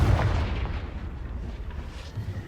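A Confringo spell explodes in Hogwarts Legacy as a deep, booming blast with a rumbling low-end tail that slowly fades, loud and close with no talk.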